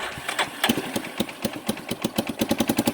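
A 1989 Yamaha Big Bear 350 ATV that sat for over ten years, its engine catching and settling into a rapid, uneven putter, close by with no talk.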